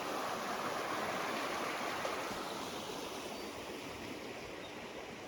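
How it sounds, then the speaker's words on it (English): A running creek flows steadily in a quiet outdoor spot in Swan Valley, a dense continuous rush of water close by, with no talk over it. "Running creek."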